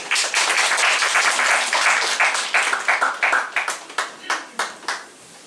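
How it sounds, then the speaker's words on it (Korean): A church youth congregation gives the pastor a loud, dense round of applause that thins into scattered, separate claps and fades out. "우리 목사님께 감사의 박수를"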